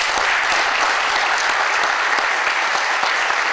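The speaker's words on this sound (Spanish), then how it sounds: "Quiero pedir un aplauso para los amigos mapuche que hoy día nos acompañan" Steady, dense audience applause for Mapuche guests at a cultural talk, many hands clapping evenly and loudly throughout with no break.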